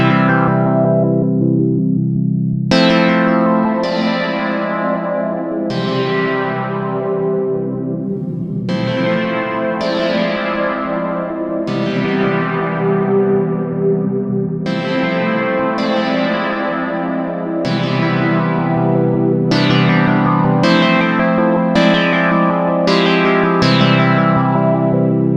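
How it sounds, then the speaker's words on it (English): A Juno-6 style software synth played with heavy reverb, sounding as a series of sustained chords struck every few seconds, each with a bright attack that decays into a long shimmering tail, loud and alone without talk. "let's go ahead and mess around with the reverb and see what we can come up with"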